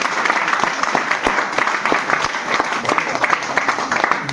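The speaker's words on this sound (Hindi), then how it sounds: "तालियां बजाइए थोड़ा सा।" Audience clapping at an indoor business opportunity meeting in Isuapur, Chapra, a dense, steady round of applause from a crowd lasting several seconds.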